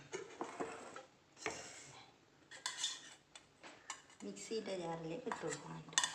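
Cooked carrot dropped into a mixer jar in a home kitchen, a few scattered clinks and knocks against the jar with quiet pauses, with faint talk alongside.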